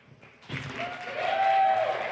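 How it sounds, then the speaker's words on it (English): An audience applauds as Laurence, founder of Wildcat Labs, is introduced for a talk: a crowd of clapping swells in after a brief quiet start and keeps building to a steady, full roar, with a thin whistle-like tone riding over it. "So please give a round of applause for Laurence, founder of Wildcat Labs"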